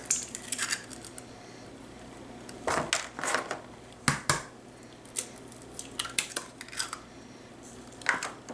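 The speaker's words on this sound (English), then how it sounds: "the basic recipe is 2 eggs. So we're just going to crack those right in here" Two eggs cracked into a bowl in a home kitchen while making a keto recipe, giving a few sharp shell taps and clicks in short bursts against a quiet room, with no talking.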